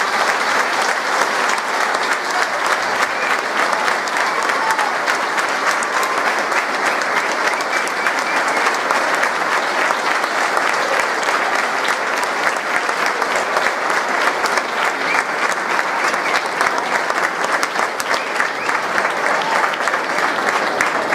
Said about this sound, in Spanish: Pido un fuerte aplauso para don Artemio Abreu García.